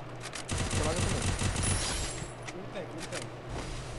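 Rapid bursts of gunfire crackle in a shooter video game, loud and dense for a couple of seconds before thinning into scattered shots and ambient game noise.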